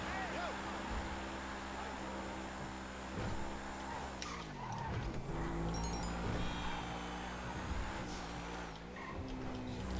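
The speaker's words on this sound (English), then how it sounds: "the engine noise, listen to that" A Truffade Adder, GTA's in-game Bugatti Veyron, revs hard and shifts through its gears in a racing video game, a loud continuous engine roar that dips and climbs again with each gear change, with tire noise mixed in.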